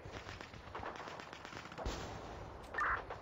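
Rapid gunfire from the video game Real Commando rattles in dense bursts throughout, with a few sharper shots standing out near the end.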